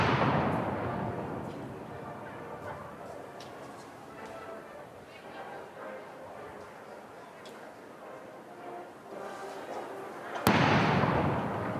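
First World War-era ceremonial guns fire near Buckingham Palace and the Mall during a royal parade, with a booming report fading at the start and another sharp, loud blast near the end over distant crowd noise and faint talk.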